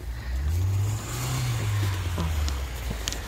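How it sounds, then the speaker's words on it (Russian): Car engine straining and revving as wheels spin and slip in deep snow on a snowy Moscow-region street in February, a steady, loud droning whine rising and falling with no talk. "Машины буксуют."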